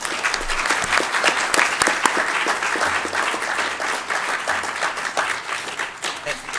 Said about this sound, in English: I think a round of applause would be great.